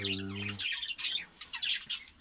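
Budgerigars chirp and tweet in quick, busy bursts, close by, with a brief low hum at the start.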